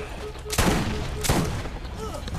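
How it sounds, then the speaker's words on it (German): Gunfire in the video game Borderlands, two heavy booming shots about 0.7 seconds apart, loud and close, over game ambience. "Ich mache zum Glück ordentlich Schaden, wenn ich auf den Hintern schieße."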